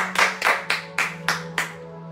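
A congregation clapping together in praise of the Lord, six loud, evenly spaced claps in a steady rhythm with a low hum underneath.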